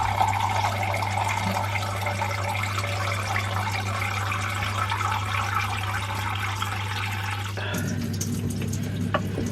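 Lukewarm water from a hot tap runs steadily into a measuring jug, a continuous hiss and splash that changes tone near the end as the flow shifts, with no talk.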